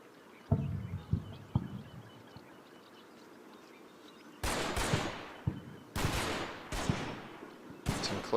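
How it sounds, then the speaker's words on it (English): Close-range gunfire in the WWII tactical game Combat Mission: Battle for Normandy erupts after a quiet stretch with a few distant thuds, coming as several sharp, loud bursts of rifle and machine-gun fire with no talking. "Some close range fire coming on."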